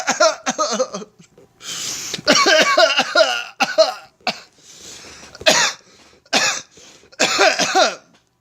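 Repeated harsh coughing fits, a person hacking in bursts with short pauses and breaths between, close and fairly loud.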